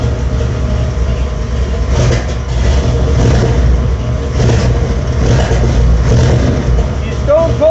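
Old square body Ford truck on a cold winter start, its engine rumbling loudly and revving in rough surges up toward redline, close and continuous.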